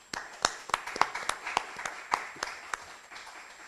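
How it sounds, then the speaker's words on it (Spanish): Applause from a university conference audience welcoming the next speaker at a congress on Jesuit missions, with scattered, fairly sparse claps that stay soft and somewhat distant throughout. "Un fuerte aplauso para él, por favor."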